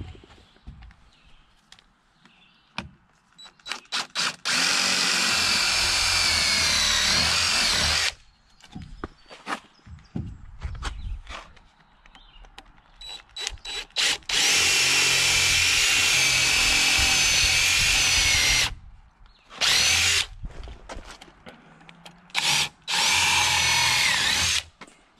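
A power drill pre-drilling holes in wood for a barn build whirs in several bursts, each run lasting a few seconds, separated by quieter clatter and handling noises.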